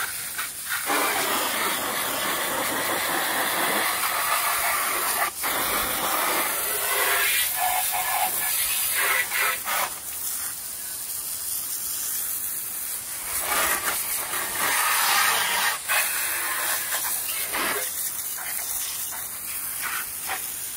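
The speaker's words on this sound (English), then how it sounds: "give it a little wash down and get some of the dirt off there and see how it looks after a good spray" A loud, continuous hiss of a pressure spray runs for the whole stretch, shifting in tone as the jet moves across a dirty dirt bike.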